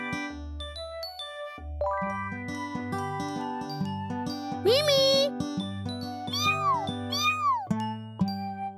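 A cartoonish voice gives a high, sliding meow over bright tinkling music, followed by a couple more stretched, singsong meows.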